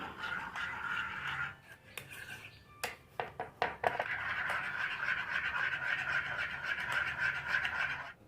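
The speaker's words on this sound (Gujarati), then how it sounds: "હવે માયોનીઝ અને ટોમેટો કેચઅપને આપણે મિક્સ કરી લઈએ" A spoon stirring mayonnaise and tomato ketchup together in a bowl, with scraping and a few sharp clinks against the bowl amid a steady hiss, close and moderately quiet.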